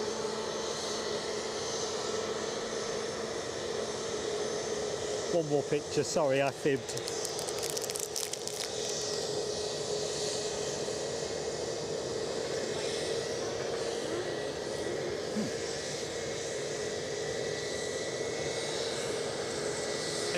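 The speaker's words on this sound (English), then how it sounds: "It's going to get a bit noisy now, so I'm just going to let the planes do the work until the noise drops." A plane at Edinburgh airport makes a steady, loud engine roar that fills the whole stretch, and someone speaks briefly near the start over it.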